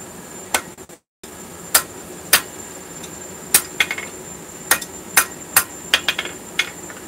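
Hammer blows ring out on an anvil as metal is forged and dressed, a dozen or so sharp metallic strikes spaced irregularly, some in quick pairs, with a brief silent gap early on.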